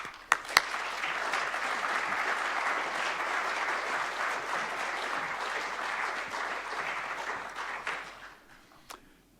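An audience applauds warmly to welcome historian Jackson Lears at a lecture hall talk, steady clapping filling the room for several seconds before thinning out and fading.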